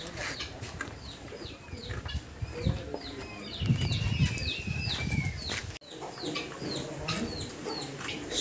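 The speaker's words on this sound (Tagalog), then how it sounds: "ito yung mga alagang chicken, no, na mga laying chicken" Laying hens on a farm cluck in repeated short, rising calls, near and fairly loud, over scratchy background rustling and occasional wing flaps.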